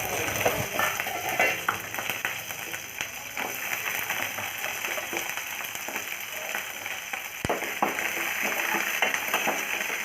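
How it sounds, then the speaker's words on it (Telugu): Dried red chillies, seasoning seeds and onion pieces fry in hot oil alongside peanuts for a Telugu okra curry, giving a steady close sizzle with scraping stirs and a sharp clink near the end. "అందులోనే ఎండుమిర్చి మరియు పోపు గింజలు ఉల్లిపాయ ముక్కలు వేసుకొని లైట్గా ఫ్రై చేసుకోవాలి"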